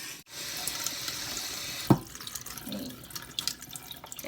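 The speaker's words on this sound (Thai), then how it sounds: "น้ำก็ไหลออกแล้ว" Water runs out of a container holding soaked mung beans set to sprout, a steady close flowing and trickling sound with one sharp knock partway through, and no talk.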